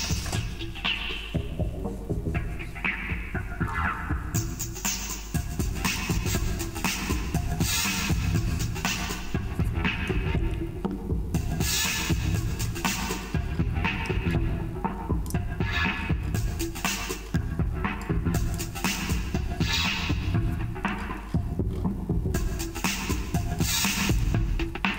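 A synth sound in Reason software throbs and hums continuously with a sweeping filter, its brightness rising and falling in pulsing waves and no voices.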